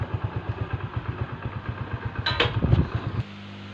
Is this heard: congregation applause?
no